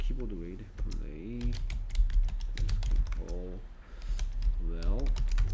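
Typing on a computer keyboard, a rapid, irregular clatter of key clicks running throughout, close and clear, while someone talks over it.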